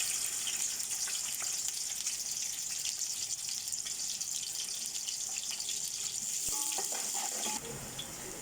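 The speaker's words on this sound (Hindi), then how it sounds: "तेल हमारा गरम हो गया है, अब हम इसमें प्याज डाल देंगे।" Onions hit hot oil and sizzle steadily, a bright continuous frying hiss with crackles throughout, close and fairly loud, with a brief dip near the end.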